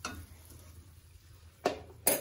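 A small spoon scrapes against a container after the last of the oyster sauce is squeezed out, giving two short, sharp metallic scrapes near the end, close and fairly loud, following a quiet stretch.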